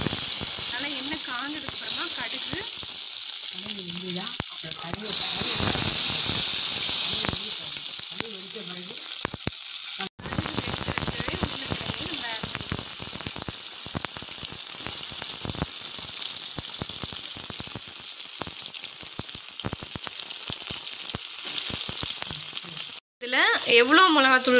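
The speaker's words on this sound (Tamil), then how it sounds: "இது இப்போ கடுகு போட போகிறீங்க பாட்டி?" Mustard seeds splutter and crackle in hot oil for tempering a spiced potato masala, a dense, steady sizzle running throughout with people talking over it near the start.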